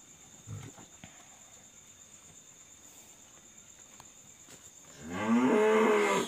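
Cattle on a farm moo in the evening while being given water mixed with bran. A quiet stretch with faint insects and small knocks leads into one loud, close, sustained moo at the end.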